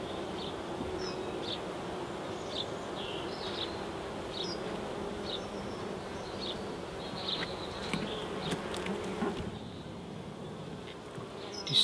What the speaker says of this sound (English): there's bees in here, in the feeder